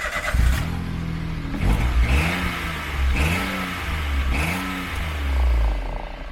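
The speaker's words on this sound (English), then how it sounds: "Let's start it up and see what it sounds like." A Peugeot 107 engine fitted with a new rear exhaust backbox starts and revs, rising and falling in several distinct throttle blips over a steady idle, close and fairly loud with no talking.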